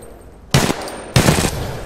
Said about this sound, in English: Oh, this is an automatic pistol.